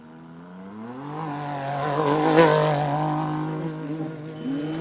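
Desert rally car number 410 launches off the start line at a qualifying prologue, its engine rising in a loud, revving roar that peaks mid-launch and then trails off as it pulls away, no talk over it.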